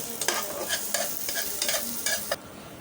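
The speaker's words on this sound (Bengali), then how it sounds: "পেঁয়াজটা আর শুকনো মরিচটা একটু ভেজে নেব" Onion and dried red chillies fry in a little oil with a soft sizzle, broken by rhythmic stirring scrapes of a spatula in the pan until it stops abruptly.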